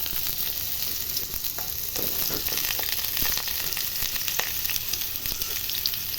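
Potatoes and vegetables such as plantain, eggplant and carrot frying in hot oil, a dense continuous close sizzle with occasional stirring scrapes throughout, no voices.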